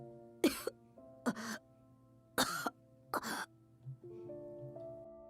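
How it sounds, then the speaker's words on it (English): Four harsh, painful coughs from a sick young boy in the video game Piofiore: Fated Memories, spaced about a second apart and close, with quieter game music and softer breaths between them. "Luca was sleeping, but his rest was disturbed by painful coughs from time to time."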